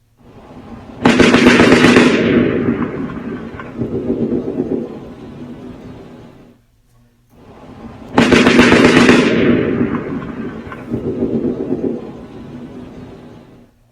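Slowed-down recording of automatic gunfire echoes from the Las Vegas shooting, reflected off a building toward a cab: two long, heavy booming bursts, each a sharp onset followed by a rolling, rumbling tail, separated by a short gap.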